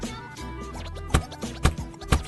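Crisp crunching bites into a crispy fried chicken biscuit, a few sharp crackly bursts at an even pace over quiet background rustle, close to the mic.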